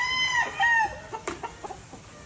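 Imported Jerry Jenkins sweater gamefowl rooster clucking, a close and fairly loud run of several short harsh clucks in quick succession, with no other sound around it.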